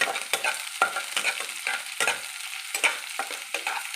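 Chopped onion and a few cloves of minced garlic sizzle in hot oil as they brown, with repeated quick spatula scrapes against the pan roughly every half second over a continuous fry hiss.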